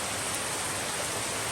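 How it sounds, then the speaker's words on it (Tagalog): Heavy rain pours down steadily and loudly, a dense, unbroken hiss across the whole moment, with no voices over it. "Grabe, lakas ang ulan."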